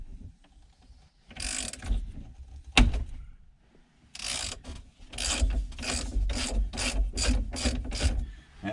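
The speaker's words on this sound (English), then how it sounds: "I got my steering wheel puller in position. I've got my 14mm socket hooked to it. Let's pop this thing off." A steering wheel puller driven by a 14mm socket works on a 1997 Jeep Wrangler steering wheel: a sharp metallic crack, then a quick run of rhythmic ratcheting clicks, loud and close.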